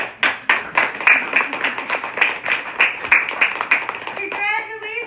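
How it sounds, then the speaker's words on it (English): An audience at a talk on early learning claps for itself, a loose run of hand claps that swells briefly, with a voice speaking over and after it. "I want everyone to clap for yourselves right now"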